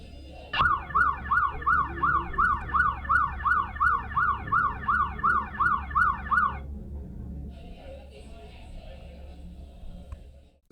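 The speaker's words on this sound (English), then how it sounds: "as soon as the siren started, they turned off their ambient mode" Emergency siren wailing in a fast, regular rise-and-fall pattern heard through headphones in ambient mode, fairly loud for about six seconds and then cutting off, leaving a low muffled hum.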